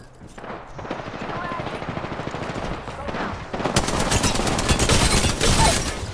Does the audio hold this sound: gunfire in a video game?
yes